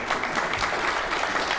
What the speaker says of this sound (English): That was a genuine clap.